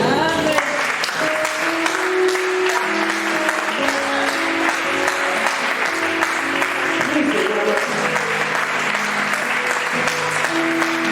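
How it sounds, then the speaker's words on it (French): A church congregation applauds during a pastor's sermon, giving sustained, dense clapping over a held musical backing that starts right away and continues throughout. "Est-ce qu'on peut l'applaudir?"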